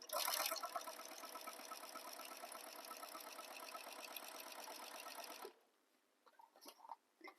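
A sewing machine stitching along a drawn line on a fabric bag, a fast steady mechanical rattle close by for about five seconds, then stopping, with a few faint handling noises after.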